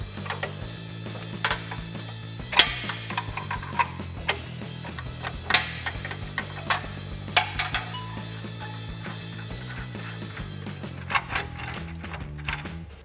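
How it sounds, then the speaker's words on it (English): A 16 mm wrench works the clamp on the exhaust crossover pipe of an EcoBoost Bronco, giving a run of light metallic clicks and clanks over a steady low hum, close by and without talk. "We're going to take a 16 millimeter wrench and loosen that up."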